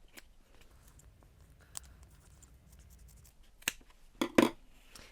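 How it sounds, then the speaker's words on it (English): Scissors snip through bag fabric, trimming the diagonal corners and cutting down the seam allowance: a few soft scratchy cuts early on, then a sharper cluster of close snips near the end, with no talking. "Cut off the diagonals again, making sure we don't cut the webbing, and cut down the seam allowance."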